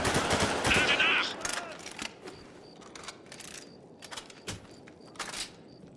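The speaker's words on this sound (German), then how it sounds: "Schrotflinte im Einsatz!" Shotgun blasts and gunfire from the video game Spec Ops: The Line, with a loud burst at the start followed by scattered sharp shots and clicks spaced through the rest.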